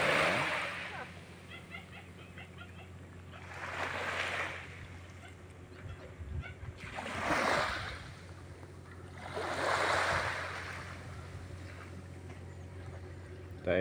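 Gentle waves wash in and recede in a slow, steady rhythm, about four soft swells, over a low background hum.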